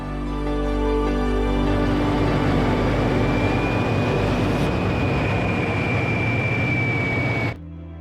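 Steady, loud drone of a small propeller airplane's engine during an aerobatic loop, with a rising, sustained whine, holding for several seconds before cutting off abruptly near the end.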